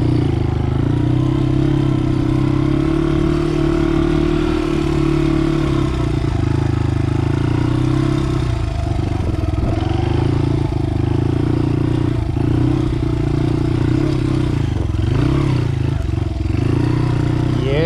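A 2001 Honda XR80 dirt bike rides in first gear, its small engine droning steadily and loudly up close with clattering and scraping over rough ground throughout.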